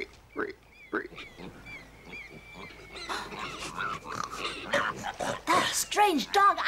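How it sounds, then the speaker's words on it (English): Whimpering and squealing cries from a strange dog-like animal in an animated film about the conquistadores in the Americas, with sharp whines and rising and falling calls that grow louder and busier toward the end. "Strange dog. I never saw a dog like that."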